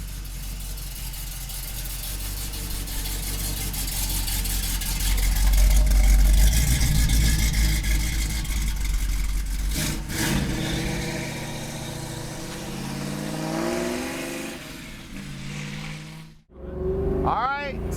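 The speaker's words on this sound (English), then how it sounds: "Listen to that exhaust." A 1968 Chevrolet Camaro with a big block engine rumbles through its exhaust, a steady, loud low drone that swells and shifts as it revs, with people talking over it.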